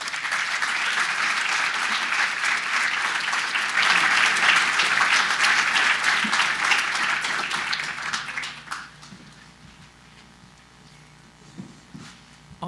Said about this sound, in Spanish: Un gran aplauso para Laura.